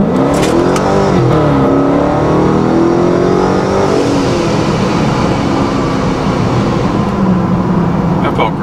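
A ProCharger-supercharged Dodge Scat Pack pulls hard under full throttle, its loud engine roaring and rising in pitch for several seconds while someone talks over it from inside the car.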